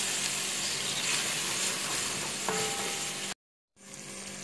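A pot of tomato sauce with half a lemon added is stirred over the heat, giving a steady close sizzle and bubbling hiss that cuts out briefly before resuming.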